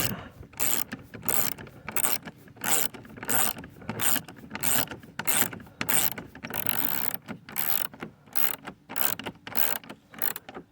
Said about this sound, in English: So I'm just tightening it down. We want to see it get snug and tight.